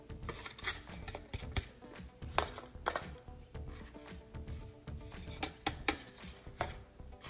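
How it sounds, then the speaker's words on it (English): Sourdough leaven for a turmeric boule is stirred in a container, making a continuous run of quiet, close, wet clicks and scrapes with an uneven rhythm and no talking. "let's see the consistency of the leaven when I mix it"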